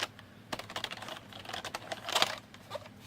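Keys are pressed on a Roccat Isku illuminated keyboard, close up: a quick, irregular run of sharp clacks with brief pauses, and no voices.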